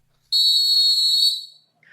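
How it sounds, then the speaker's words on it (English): A single loud, shrill blast from a whistle, held steady for about a second before trailing off, close and alone. "I'm going to blow the whistle twice"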